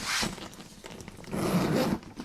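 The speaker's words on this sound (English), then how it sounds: "I like to feel the zipper" Zipper running along a Louis Vuitton vanity case dupe, two slow rasping pulls back and forth, close and fairly quiet, with no talking.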